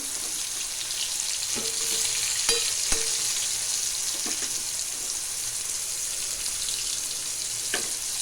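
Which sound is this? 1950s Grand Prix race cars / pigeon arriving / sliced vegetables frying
sliced vegetables frying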